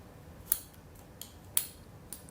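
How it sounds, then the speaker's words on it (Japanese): Dull scissors snipping flower stems while trimming an ikebana arrangement in a tall, slender vase, with two sharper cuts and a few lighter clicks in a quiet room. "ちょっとこれハサミが切れないものになっているので切り口が綺麗じゃないんですけれども"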